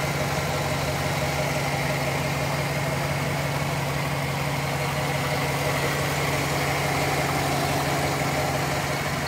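A 2010 GMC Sierra 1500's 5.3-liter V8 engine idles steadily up close with the hood open, a constant low rumble with a smooth hum and no voices, unchanging throughout.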